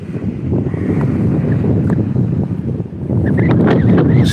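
Strong wind roars and buffets the microphone in a loud, steady rush, with faint creaks and knocks underneath.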